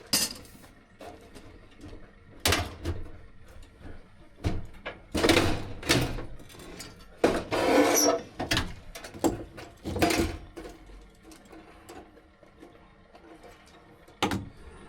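A gutter machine roll-forms seamless gutter from a coil stored above it, giving bursts of metallic rattling, clanking and grinding with irregular pauses. The sound is close and moderately loud, and there is no talking.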